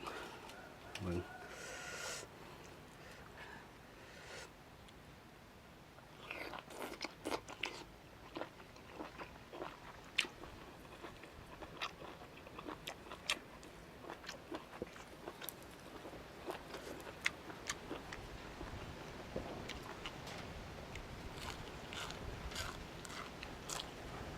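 Crunchy squid seafood being bitten and chewed up close in repeated crisp crunches and smacks, with faint outdoor background sounds.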